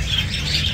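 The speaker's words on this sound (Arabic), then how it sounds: "طيور حب أوروبيات" European lovebirds at a Baghdad bird market give high, thin chirps over a low, steady hum of market background, brief and moderately close.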